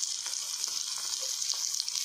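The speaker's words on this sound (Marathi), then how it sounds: "आपण एक एक करून आहे ना आता तव्यावरती टाकतो आहे आणि फ्राय करून घेतो आहे" Fish sizzling steadily as it fries on a griddle pan in a village home kitchen, a continuous bright hiss with no talk.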